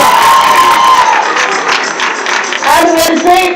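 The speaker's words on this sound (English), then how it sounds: "Clap for us because teachers are good." A crowd at a girls' high school thanksgiving celebration claps, cheers and shouts for the teachers, loud and close, with voices rising and whooping over the clapping throughout.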